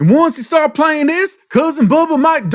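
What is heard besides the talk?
No everyday noise stands out behind the speech.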